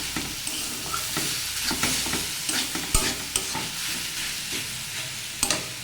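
Banana flower (mocha) cooking in a pan over low heat, stirred repeatedly so a close, steady sizzle is broken by irregular scraping and clacking strokes.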